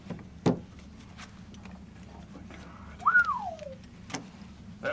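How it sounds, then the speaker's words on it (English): A single short, rising-then-falling whistle carries over a quiet room at a cosplay poker game, with faint knocks and clicks scattered around it. "That whistle didn't mean anything."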